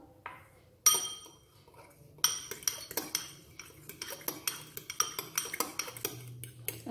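Metal spoon scraping and clinking around a bowl while mixing chili sauce for aloo tikki burgers, a steady run of sharp, close taps and scrapes with no talking.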